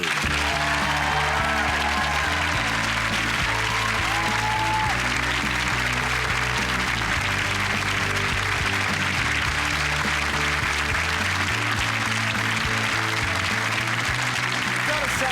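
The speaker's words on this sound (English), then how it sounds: "You love a bloke who comes out clapping." Theatre audience applauding as a comedian walks on stage clapping, sustained dense clapping for the full stretch, loud and full, with a low hum of voices underneath.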